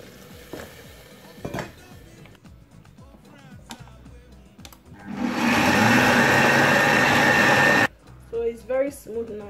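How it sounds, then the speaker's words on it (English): A kitchen blender whirs loudly for about three seconds while grinding melon seeds with water for Wrewre soup. The motor noise is steady and dense, with softer handling clatter and a voice heard before and after it. "Add some water and then blend."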